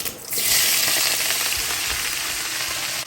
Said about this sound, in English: we're going to use that grease to fry up the cabbage and onions